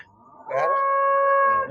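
Cattle at the Melapalayam cattle market in Tirunelveli district give a single long, loud moo with a clear tonal pitch that holds steady for over a second, close by, with faint market background noise.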